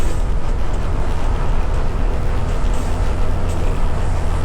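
Motorbike ride through hilly country on the way from Baler to Subic Bay, heard as a loud, steady roar of engine and rushing wind noise buffeting the microphone without a break.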